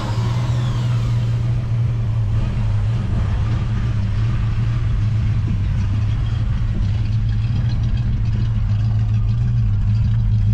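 A 1969 Ford Mustang engine idles steadily just after starting, a deep throbbing low rumble held near and loud for the whole stretch without revving.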